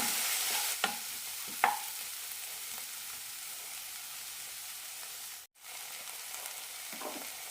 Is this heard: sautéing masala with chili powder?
yes